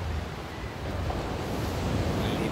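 Sea waves breaking on a beach of fine black sand, heard as a steady, loud wash of surf with wind noise, continuous and without talk.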